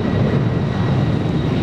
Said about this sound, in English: Let that plane take off.